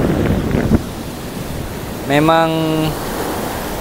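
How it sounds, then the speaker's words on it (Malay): Strong wind roars against a microphone over the steady wash of high, rough ocean waves; a voice speaks briefly in the middle. "Ombak tengah tinggi."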